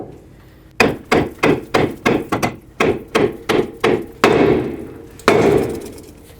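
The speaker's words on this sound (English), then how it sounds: "next you want to get a hammer right here and break the ball joint free from the control arm" A hammer strikes to break a car's ball joint free from the control arm, about a dozen sharp metallic whacks in a quick, steady rhythm, then two heavier, ringing blows, loud and close with no talk.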